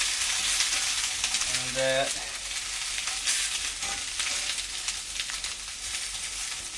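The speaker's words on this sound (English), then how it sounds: "Let the garlic cook out a little bit." Garlic sautéing in a pan for chicken fricassee gives a steady close sizzle that crackles and hisses throughout, with a short voiced sound near the start.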